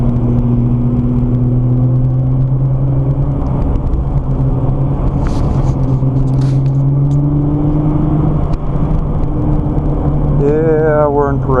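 Nissan GT-R engine pulling on a race track during slow parade laps, a continuous close rumble that rises gradually in pitch, then a quicker rev near the end, with no talk.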